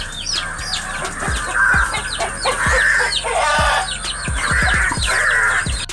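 A hen ranging over sunbaked sand clucks repeatedly in short, close, loud bursts, with other fowl calling around it.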